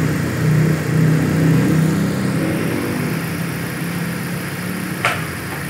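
A 2015 Dodge Journey 2.4L engine fitted with an HHO fuel saver runs smoothly at the roadside, with a steady mid-pitched hum, a slight rise early on and a brief click near the end.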